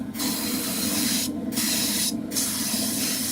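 Spray paint mists in light coats onto the cockpit tub of a 1/48 scale F-14D Super Tomcat model kit, heard up close as three strong hissing bursts separated by two short pauses.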